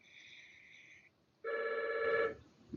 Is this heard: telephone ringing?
yes